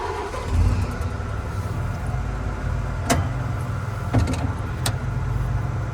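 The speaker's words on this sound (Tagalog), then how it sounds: "Start the engine." A Tadano crane's engine runs steadily at a low, loud rumble, with a few brief sharp clicks and clatters on top and no talk.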